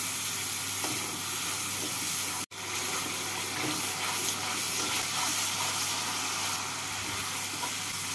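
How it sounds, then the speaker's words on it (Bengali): Masala spice paste mixed with a little water fries in a pan with a steady, dense sizzle for several seconds, close and fairly loud, broken by one brief dropout, with no voices. "এবারে মশলাটাকে কষিয়ে নেব"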